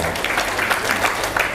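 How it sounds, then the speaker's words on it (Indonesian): Short burst of steady, dense applause from an audience at a school gathering, with no voices over it. "tepuk tangan untuk SD itu"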